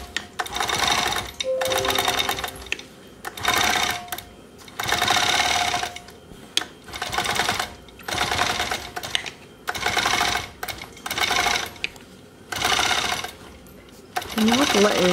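A sewing machine quilting fabric blocks for a Dear Jane quilt runs in repeated stitching bursts of one to two seconds, separated by brief pauses, loud and close, with no talk over it.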